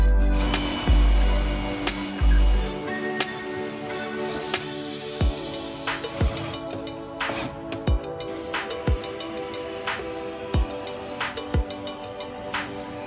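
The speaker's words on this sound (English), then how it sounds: "And then it's time to drill out the holes." A power drill bores holes for ARB air manifold brackets in a Lexus GX470 engine bay. A loud whirring run comes first, followed by a series of sharp, evenly spaced clicks and knocks close by.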